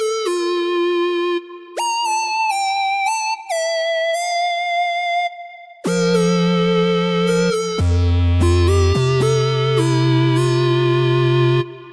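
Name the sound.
Neon Whistles synth preset, Arturia Pigments 4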